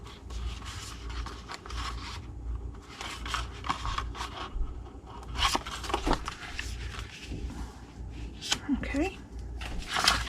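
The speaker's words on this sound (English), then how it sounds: "cut it to the first score line, and then cut off this rectangle." Scissors cut cardstock for a Halloween treat box in short, close scraping snips and rubs, separated by brief pauses, while a person talks over the cutting.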